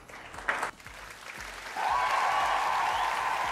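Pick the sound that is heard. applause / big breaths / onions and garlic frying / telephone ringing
applause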